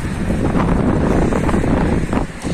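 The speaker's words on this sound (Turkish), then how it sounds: "Bu kadar rüzgar yoktu ya, bir anda böyle bastırdı." Strong wind roars and buffets the microphone in a steady, loud rush of gusts with no clear talk, outdoors among chickens and roosters.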